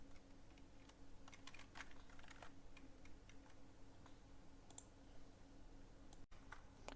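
Computer keyboard typing while code is written for a Minecraft Towny server, soft, quiet irregular key clicks in quick uneven runs over a low steady hum.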